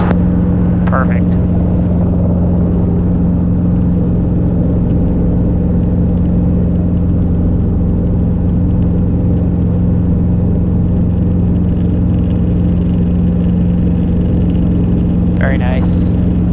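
A Robinson R22 helicopter takes off from runway 02, its engine and rotor making a loud, steady close-up drone and throb that fills the whole stretch, with radio chirps at the start and end.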